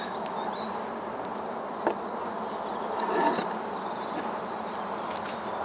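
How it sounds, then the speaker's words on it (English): Many honeybees in a top bar hive hum in a dense, continuous buzz up close, with a few faint knocks and rustles. "so we've got quite a lot of bees here."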